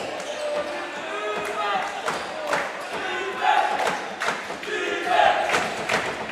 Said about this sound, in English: loud defense chants being heard from the Marikina side